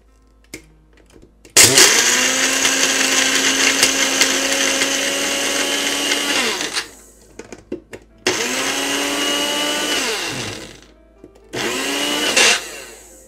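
A loud blender whirs in three bursts, a long run and two shorter pulses, its motor pitch dipping as it grinds ice, with pauses between.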